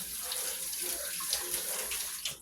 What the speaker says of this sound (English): Then we're going to get us a big spoon. And rinse this off.